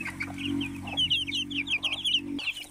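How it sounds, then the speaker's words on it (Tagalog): Rhode Island Red heritage chickens cluck and chirp in quick, overlapping bursts close by, with a low steady hum running underneath. "Heritage chicken po ito."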